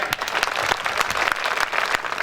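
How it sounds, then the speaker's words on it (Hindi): A crowd at a Gurjar community stage program in Ujjain bursts into vigorous applause, close and lively, with sharp individual claps punching through the continuous rattle of many hands. "एक बार जोरदार तालियां हो जाएं।"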